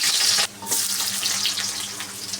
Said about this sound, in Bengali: এখন তেলের মধ্যে দিব আমি রসুন কুচি